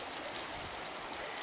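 Water pours from an overflow spillway into a wooded creek, a steady rushing hiss heard up close with nothing else over it.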